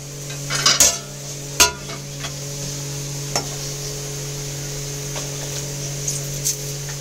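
A pot of boiling water with rice added, stirred by a utensil: a few sharp clinks and scrapes against the pot over a steady hum and faint bubbling, close and fairly quiet, no voices.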